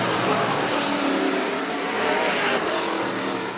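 Race cars roar around the track at a Manistee feature race, the lead pack running nose to tail, producing a loud, continuous wall of engine noise with no break.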